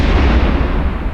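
Moa Guardian ship blowing up in EVE Echoes, a loud, dense explosion rumble that fills the whole moment with heavy low-end roar and no voices.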